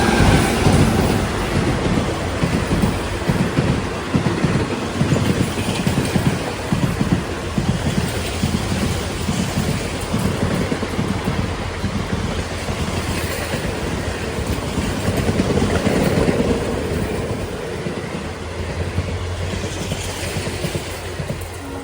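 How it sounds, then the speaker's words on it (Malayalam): The Narsapur to Hubballi express train runs through Ginigera junction without stopping, a sustained close rumble with rapid rhythmic wheel clatter that stays loud for the whole pass. "ഇവിടെ ഇപ്പോൾ ഒരു ട്രെയിൻ നിർത്താതെ പോയില്ലേ, അത് നർസാപൂരിൽ നിന്ന് ഹുബ്ബള്ളിയിലേക്ക് പോകുന്ന ഒരു എക്സ്പ്രസ് ആണ്."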